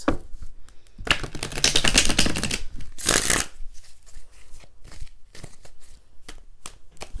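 Tarot cards are shuffled in several quick riffling bursts, with crisp flutters and taps between them, close and fairly quiet.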